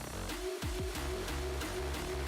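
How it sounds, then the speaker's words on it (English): Music from a song keeps playing under rapid beat repeats in Ableton Live mix mode, a dense rhythmic loop with regular pulses stuttering over the underlying track, fairly quiet and without talk. "you can hear the song still playing in the background"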